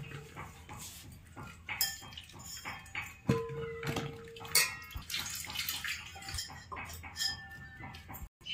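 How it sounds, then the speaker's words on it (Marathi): Splashing and sloshing water with occasional clinks and knocks as sweet potatoes are rinsed by hand in a bowl, close by. "याला स्वच्छ पाण्याने धुवून घेऊ"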